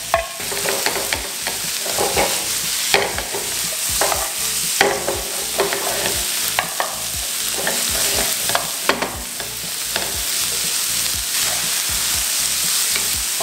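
Green beans and carrots are stir-fried in a pan, giving a steady, close sizzle with a repeated clatter of a spatula scraping and tossing throughout, and no talking.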